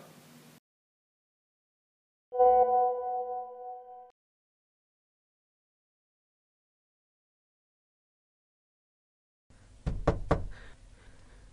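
Sharp knocks on a door land as a short cluster of loud raps near the end, after a sustained synthetic tone and long silence.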